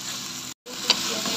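Chicken cubes fry in a spice paste over a medium-low flame, giving a bright, close hiss that cuts out for a split second and returns with a soft stir.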